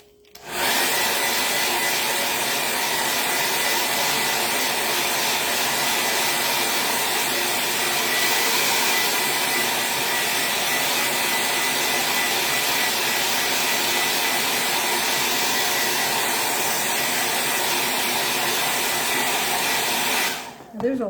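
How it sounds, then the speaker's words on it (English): A heat tool blows hot air to dry and heat-set Chalk Couture ink on a shirt, a steady, loud whooshing whir running unbroken for about twenty seconds before cutting off. "So I'm going to go ahead and heat set this one too so nothing happens to it."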